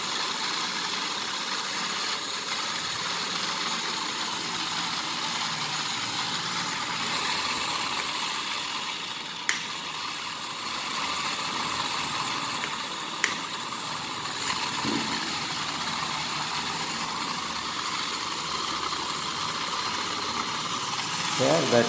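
A high-torque 230 V AC permanent magnet motor runs steadily, giving a quiet, even hum with a couple of brief clicks along the way.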